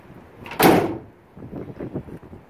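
A compartment door on a 2011 Ford F-150 SuperCrew XLT pickup opens with a single sharp close thud, followed by softer handling clunks and rattles from the cabin interior.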